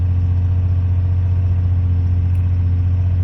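A 1970 Fiat Dino engine running shortly after a cold start without an active choke, held slightly above idle with a little throttle, giving a steady, close, deep rumbling drone with no talking.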